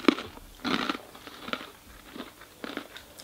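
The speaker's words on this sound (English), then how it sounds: "We need to chew louder into the microphone." Doritos Crackers are crunched and chewed close to the microphone in loud, irregular bursts separated by short quiet gaps, with no talk.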